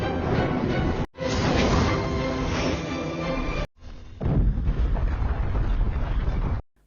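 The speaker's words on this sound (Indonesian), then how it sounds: "Ia pun meledakkan tempat tersebut dan sudah berniat mati bersamanya." A bomb blast in a martial-arts drama, heard as a loud, dense, roaring burst with rumbling debris that continues across the whole clip, broken by two brief silent cuts.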